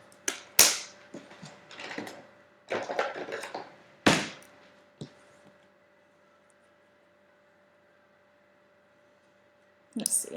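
Paper being cut for a handmade accordion mini album, a few sharp, close snips and slicing strokes in quick bursts, then a stretch of near quiet before one last cut at the end.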